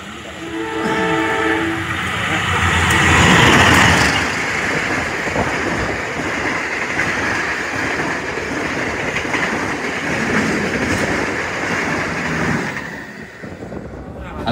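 Train pulling into Surabaya Gubeng station, a loud steady rumble of rolling wagons with a horn blast near the start, sustained throughout before easing at the end; faint voices mix in.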